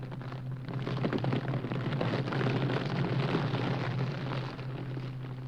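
A large fire burns with a continuous, loud, rushing roar and crackle under a steady low hum, holding evenly for several seconds before easing slightly at the end.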